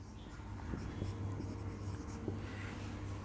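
Pen writing out a math solution, heard as continuous soft scratching strokes under a steady hum of background noise.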